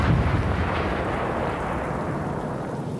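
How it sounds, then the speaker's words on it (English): A deep, rumbling boom of a big cannon in the video game Sniper Elite 5 rolls out and lingers as a heavy low roar, like distant cannon fire echoing, steady and fairly loud with no talk. "there's some sort of big cannon going off"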